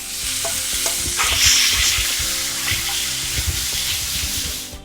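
Spicy shrimp and vegetables stirred in a hot pan without added oil, a steady loud sizzle with repeated scraping and clinking of the utensil against the pan, continuous and close with no talking.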